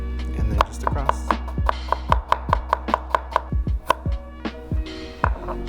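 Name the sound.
knife dicing vegetable on cutting board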